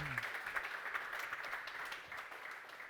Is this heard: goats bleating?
no